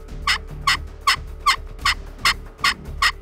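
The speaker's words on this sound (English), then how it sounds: "Melissa waits for it to gobble and stretch its head out for a shot" A wild turkey tom in full strut display in Colorado calls eight times in a fast, evenly spaced series, loud and close with no other sounds.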